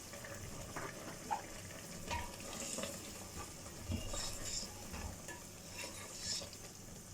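Chicken korma with garam masala being stirred and fried in a pot, a soft, steady sizzle under scattered spoon scrapes and light clinks, fairly quiet and close.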